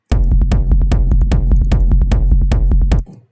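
A deep sub-bass line sidechained to the kick pumps in and out, ducking under each punchy kick drum in a steady, regular rhythm, loud and up close, then stops abruptly.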